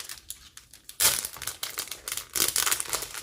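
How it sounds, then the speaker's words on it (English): Plastic packaging of a Garden Biscornu cross-stitch kit crinkling close up in short, irregular crackling bursts, with two louder rustles between quieter handling. "Sorry for the crinkling."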